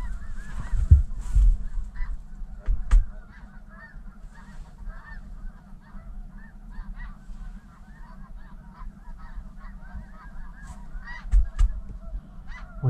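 A flock of snow geese, including a blue-phase bird, honks over water during a migration-day hunt, with repeated nasal calls overlapping near and far above low wind rumble, a few louder honks standing out.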